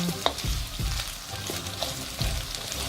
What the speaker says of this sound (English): spring onion, and some garlic and ginger paste with some sauteing